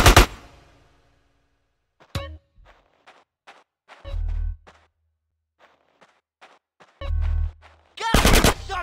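Video game gunfire in GTA San Andreas during a gang war: a loud opening blast, then scattered single shots and short automatic bursts separated by quiet gaps, ending in a heavy volley.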